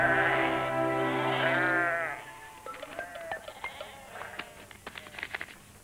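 Sheep in a field let out a long, loud, wavering bleat lasting about two seconds, followed by quieter scattered clicks and faint bleats in the background.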